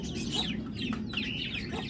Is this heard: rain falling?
no